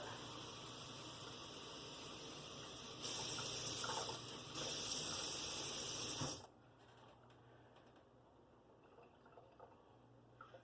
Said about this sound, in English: Two cups of very warm water in there.